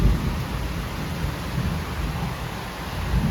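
Heavy rain pours in a constant loud hiss, with deep low rumbles of thunder swelling underneath at the start and end.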